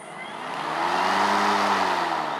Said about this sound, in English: And then once it's fully revving, then you can you should be able to just carry on with the lawnmower.